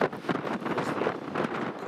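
Gusty wind buffets the microphone outdoors at a racecourse site, a steady rough low roar with rising and falling surges throughout, loud and continuous with no one speaking.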